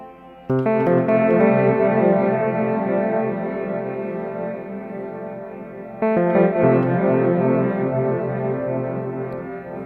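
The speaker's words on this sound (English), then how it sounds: "You hear it almost sounds a bit like an echo delay kind of thing too. but one that's wigging out" A synth runs through a Pladask Elektrisk Draume V2 pedal, its sustained chord smeared by a warbling, unstable echo delay; it swells twice, re-striking near the middle, and stays loud and dense throughout.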